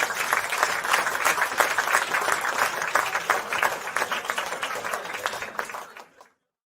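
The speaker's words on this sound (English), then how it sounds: "Applause." Applause from a small group during a gaming livestream, a steady patter of clapping that fades out and stops abruptly near the end.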